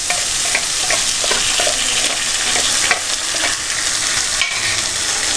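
Vegetables stir-fry in a hot pan with chilli sauce while cooking fried rice, giving a loud continuous sizzle with repeated scraping and clinking of a spatula against the pan.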